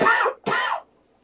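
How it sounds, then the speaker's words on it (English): Two harsh, close coughs follow each other quickly, the second slightly weaker, then the sound drops to near silence. "I'm going to cough."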